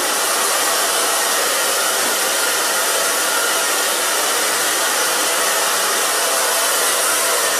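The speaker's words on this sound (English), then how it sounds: "Now, I'm going to take blow dryer." A blow dryer runs continuously at close range while drying and styling a woman's hair, a loud, steady airy roar with no pauses or talking.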